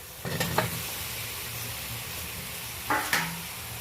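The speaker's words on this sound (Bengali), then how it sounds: "এই পর্যায়ে আমি ভেজে রাখা আলু, ঝিঙে আর চিংড়ি মাছটা অ্যাড করে দিচ্ছি।" Fried potato, ridge gourd and prawns are stirred into a sizzling masala in a pan, a steady frying hiss broken by two pairs of sharp spatula scrapes, close and without talk.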